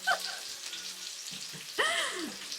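Onions sizzling in a pan for a vegan stir fry, a steady soft crackle with a brief louder surge of hiss near the end.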